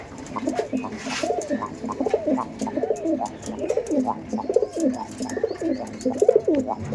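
Andhra pigeons coo steadily in repeated low, rolling phrases, close and fairly loud, one call overlapping the next with faint chirps behind.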